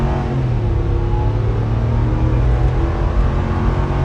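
A 2025 RAM Rebel pickup truck accelerates hard from a standstill toward 60 mph. It gives a loud, steady engine roar and road rumble from inside the cab, with no pauses.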